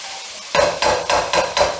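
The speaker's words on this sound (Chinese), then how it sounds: "然后再把南瓜蓉炒香" Pumpkin puree is stir-fried in scallion-ginger chicken oil. Silence gives way to a sudden sizzle, then rhythmic scraping strokes of a ladle in the wok about every quarter second, loud and close.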